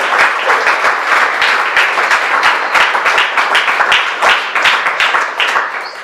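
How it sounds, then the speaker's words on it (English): Sustained audience applause fills an art exhibition space, many hands clapping densely and steadily at close range for about six seconds with no talking over it. "ask our visitors just to give them a round of applause for achieving this"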